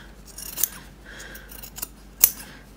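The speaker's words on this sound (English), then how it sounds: "I'm just going to come across here and trim the end" Scissors snip the fabric end while sewing a coin purse and card holder wallet: two sharp, quiet cuts about a second and a half apart, with soft handling sounds of fabric between them in a calm room.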